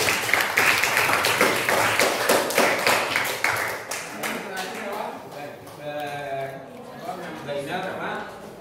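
Classroom clapping breaks out in a quick burst of close, dense claps, then fades as people start talking.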